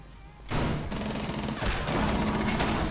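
Gunfire in Rainbow Six Siege, a sudden loud burst of dense overlapping shots that starts after a quiet moment and keeps going as a sustained barrage.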